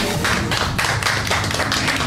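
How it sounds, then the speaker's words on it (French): A small group claps in a dense, steady burst of applause, close and fairly loud, with sharp overlapping hand slaps and no voices. "Et on l'applaudit, c'était bien."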